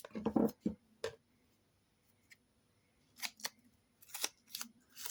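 Several short crisp snips of scissors cutting adhesive paper tape for a simple mini paper album, a quick cluster of cuts at first, then a pause and more close, sharp snips later, with no talking.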